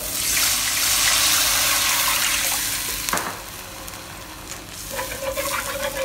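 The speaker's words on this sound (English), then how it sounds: "Now we'll add in 2 cups of water." Two cups of water poured into a hot wok over Szechuan peppercorn and spices give a loud, steady rush and seethe that gradually eases, ending with a few light clinks and a soft bubbling hiss.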